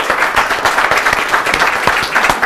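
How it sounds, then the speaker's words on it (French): An audience at an after-work business event claps continuously, a dense burst of applause that stays steady throughout. "je demanderai un petit applaudissement pour Julien Killers"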